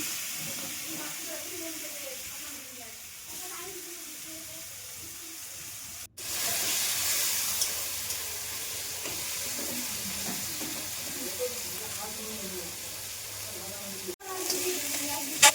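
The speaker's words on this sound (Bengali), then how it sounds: "এবার আমি একে একে সম্পূর্ণ মাছগুলোকে ভালো করে ভেজে নেব।" Fish sizzles steadily in hot oil, a constant bright hiss that jumps louder after a brief cut, with occasional soft pops.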